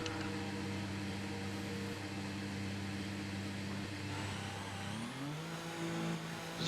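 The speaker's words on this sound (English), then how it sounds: "I do like the sound how the cars start up there." F1 2019 race cars on the starting grid idling with a steady engine drone, then revving upward near the end, with rain-like hiss underneath.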